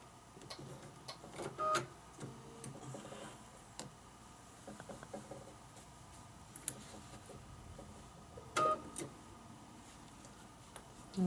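A sewing machine stitches a circle guided by a Westalee template, quiet ticking runs of the needle broken by a few sharper clicks and brief louder bursts, with no talk.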